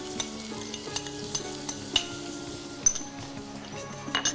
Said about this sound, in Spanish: Se está cociendo, friendo el ajo.